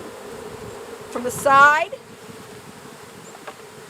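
Honey bees buzz around an open beehive as frames are gently pushed in during a beginner beekeeping class in Swanzey, New Hampshire. A soft background hum swells into a loud, close, wavering drone midway, with a person speaking briefly.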